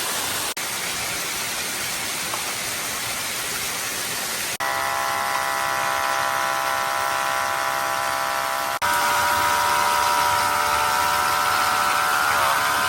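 An OutIn Nano portable espresso maker brewing outdoors gives a steady buzzing pump whir that shifts pitch in stages, rising into a louder tonal hum toward the end, close and continuous.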